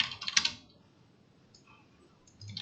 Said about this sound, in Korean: 타이핑을 하죠.